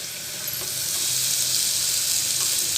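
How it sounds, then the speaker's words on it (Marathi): Food frying in a pan for junglee chicken, a loud, continuous close sizzle with faint stirring scrapes, steady throughout and with no voices. "आणि 2 मिनिटं चांगलं हलवून घ्यायचं."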